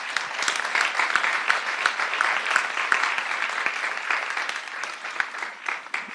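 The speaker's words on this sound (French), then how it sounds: "Merci beaucoup, on peut l'applaudir très fort." A conference audience applauds a speaker on childhood professionals' training, dense steady clapping filling the room for about six seconds with no voices over it.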